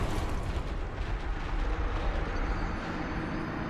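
A boss in Dark Souls swings its weapon and sets off an explosion behind the player, heard as a heavy, continuous rumbling blast that holds at full strength throughout, with no talking.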